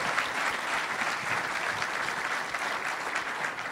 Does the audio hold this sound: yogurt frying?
no